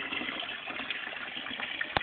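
Tap water pours steadily into a laundry tub where ducklings are bathing, a continuous splashing gush heard up close for the whole stretch with a brief sharper splash at the end.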